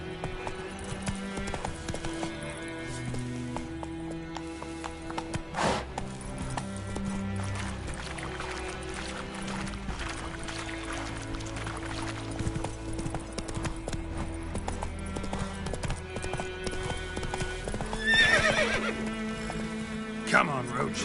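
Roach, the horse from the video game The Witcher, gallops with rhythmic hoofbeats and a brief whinny near the end, set under a music score and game sound.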